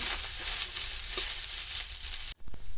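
Field beans (avarekalu) roast in oil in a pan over a low flame, giving a steady, close sizzle with faint stirring scrapes, which cuts off abruptly near the end before resuming briefly.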